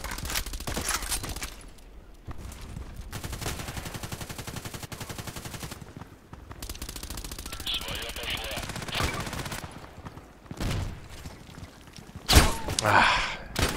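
Gunfire in the video game Contract Wars, rapid automatic bursts broken by short pauses, with a louder burst of shots near the end and occasional gasping breaths between.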